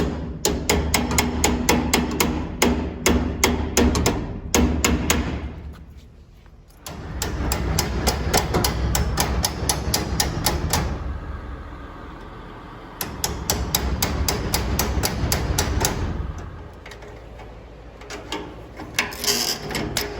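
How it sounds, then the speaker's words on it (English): Repeated metal hammer blows drive pins out of the steel conveyor chain on a Fisher V-Box or Western salt spreader, coming in rapid rhythmic bursts separated by short pauses. "Drive these pins out."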